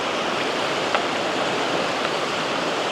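A waterfall in a sunny, snowy Norwegian canyon pours with a steady, loud broadband rush of falling water, unbroken and without voices.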